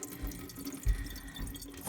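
Watermelon juice drains out of a lidded container, a close, trickling splash of liquid with small drips and gurgles that continues steadily for a couple of seconds.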